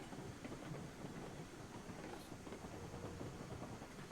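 A train passes in the video game Railroads Online, a continuous broad rumbling rattle of rolling rail cars with faint clacking, steady and quiet, with no voices.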